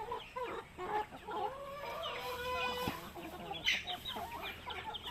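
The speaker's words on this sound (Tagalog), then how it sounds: "meron pa akong mga pabo dito na maliliit tsaka native sa kabila" Small turkeys and native chickens cluck and chatter close by on a farm, with overlapping calls, a drawn-out squawk midway and busy fowl noise throughout.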